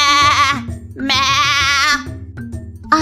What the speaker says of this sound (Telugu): ఆ పామును చూసిన మేక ఒకటే అరుపు